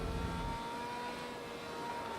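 An open-wheel race car in the Grid Autosport video game accelerates, its engine a steady mid-pitched drone that sounds near and constant, alone with no talk.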